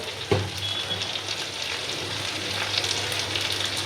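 Ginger, garlic and cumin paste with turmeric frying in a pan, a steady close sizzle with a single knock of a utensil near the start.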